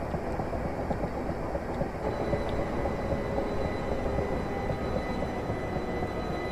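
Class 375 electric multiple unit on the Medway Valley line, a four-car set at Paddock Wood station in a train simulator, gives a steady, close rumble of running gear and motor hum that holds evenly throughout, with no talk.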